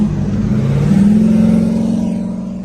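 A Ford Mustang race car accelerates hard in a drag race pull, a loud, close engine drone rising steadily in pitch, then easing off slightly near the end, with no talking.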